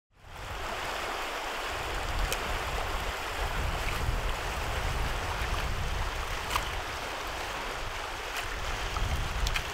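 Steady broadband rush of a river flowing past a bank at Clearwater Park, continuous and fairly close with no speech over it.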